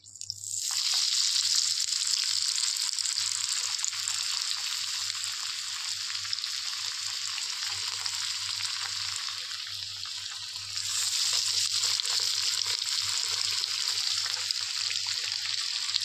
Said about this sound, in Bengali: এবার আমরা আস্তে আস্তে একটা একটা করে ডিপ ফ্রাই করব